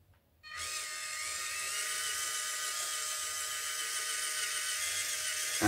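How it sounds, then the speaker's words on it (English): A small 1:18 scale Toyota FJ Cruiser 4x4 RC crawler's electric motor whines high and steady after the throttle is hit, starting abruptly after a brief quiet moment and holding an even buzzing pitch throughout. "So when you hit the throttle, the headlights will turn on."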